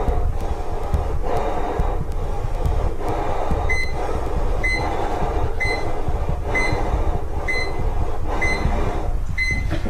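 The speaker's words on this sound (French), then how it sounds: "vous entendez une alarme qui se met en route" An alarm sounds a bright, repeating electronic beep roughly once a second, starting a few seconds in and continuing over a loud, constant low rumbling background.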